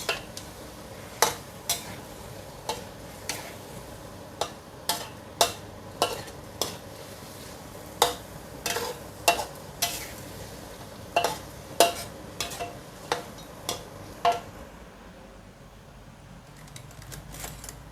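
Spicy duck with pickled bamboo shoots stir-fried in a pan, with a soft continuous sizzle under a series of sharp, regular spatula clacks against the pan that fade out near the end.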